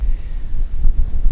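Strong wind buffets the microphone outdoors by a river on a dark, rainy evening, producing loud low rumbling gusts that pulse unevenly for a brief moment with no voices.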